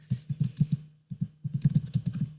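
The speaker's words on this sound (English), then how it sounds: "I'm sorry if you hear my annoying keys. They apparently type very loud." Rapid bursts of loud clacking keystrokes on a computer keyboard, close up, with a short pause between two runs of typing.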